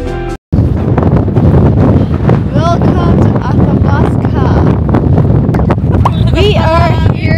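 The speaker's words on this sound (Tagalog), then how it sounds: "Sobrang hangin! Hinahangin kami, guys!" Strong wind at the toe of the Athabasca Glacier buffets the microphone in a loud, constant rumble while people shout and talk over it.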